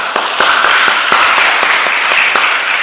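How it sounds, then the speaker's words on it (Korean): Congregation at a Korean church in Hamburg applauding the choir; close, loud clapping from a modest crowd, with a few sharp individual claps standing out in a quick irregular rhythm. "우리 찬양대 박수 한번 쳐주십시다"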